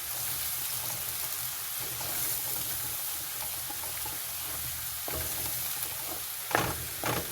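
Steady, dense sizzling of a tablespoon of whole cumin seeds frying in hot oil over high flame, close up, with a couple of brief clinks near the end.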